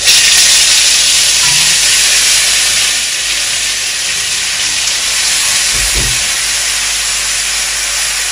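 Marinade hitting hot oil for Nigerian party-style fried rice, a loud continuous close hiss and sizzle that holds steady throughout, with a brief clunk partway through and no voices.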